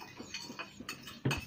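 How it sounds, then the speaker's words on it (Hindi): Eggs beaten with a utensil in a bowl: quick, regular light clinks and taps repeating about every fifth of a second, close and fairly quiet, ending in a louder knock. "फेटो फेटो, इसको अच्छे से फेटो"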